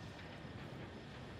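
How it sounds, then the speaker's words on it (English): A steady, rumbling train passing in the video game Ghost Recon Breakpoint, broadband roar with no clear rhythm, fairly quiet and continuous. "Oh, that's a train."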